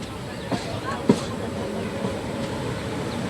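Porbandar–Bhavnagar passenger train hauled by a WV5 locomotive, crossing at Dhoraji, rumbles steadily at moderate distance with a couple of sharp knocks, while a voice speaks over it.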